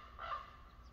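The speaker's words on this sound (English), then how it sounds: "Crow." A crow caws once from across a backyard lawn, a single rasping call heard at moderate distance over quiet outdoor background.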